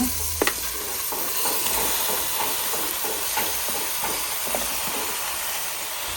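Chicken pieces drop into a hot pan with crushed garlic, curry leaves and onion for a country-chicken sukka, setting off a steady broadband sizzle and hiss with a few scraping stirs, no voices.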